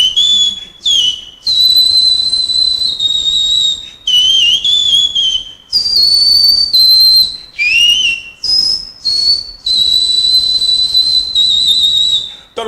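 A person whistles a melodic tune in short, clear phrases broken by brief pauses, loud and close with nothing else audible.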